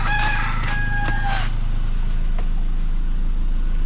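A rooster crows once, loud and close, followed by a quieter steady background hum.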